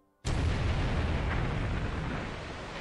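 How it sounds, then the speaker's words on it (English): Sustained burst of 20mm anti-aircraft gunfire aboard a warship in a World War II Pacific naval battle, a sudden loud onset that holds as a dense, roaring wall of noise before easing slightly. "The 20mm guns get into action."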